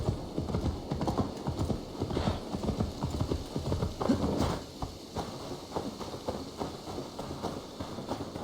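Horse hooves clip-clop steadily in Assassin's Creed Valhalla, a brisk, close trotting rhythm over a continuous rumbling ambience, with no talk over it.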